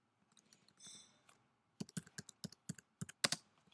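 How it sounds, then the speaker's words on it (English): Typing on a Mac computer keyboard: a quick run of crisp, close key clicks in an uneven rhythm, preceded by a few softer taps and a brief muffled rustle, in an otherwise quiet room. "I'm just going to type in virus"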